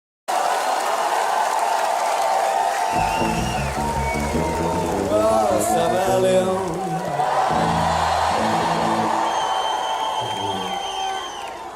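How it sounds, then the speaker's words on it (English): A big concert crowd at a show cheers, whoops and applauds loudly and continuously, a dense roar that swells and then slowly fades, with some shouting voices mixed in. "Oh yeah, look at that crowd. Big crowd."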